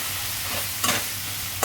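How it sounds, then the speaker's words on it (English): Chilli powder is stirred into a sizzling chicken curry puff filling in a pan. The frying hiss is even and close, with two quick scraping strokes of the spoon. "so we're going to give this a good stir in."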